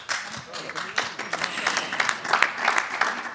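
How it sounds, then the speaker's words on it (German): Audience applause at a congress on the future of rural regions, a hall of clapping hands filling the space with dense, steady patter at moderate loudness for a few seconds. "Da gibt es Beifall."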